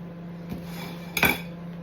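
A metal spoon clinks against dishes twice, a light tap followed by a brighter ringing clink, over a low steady hum in a quiet kitchen.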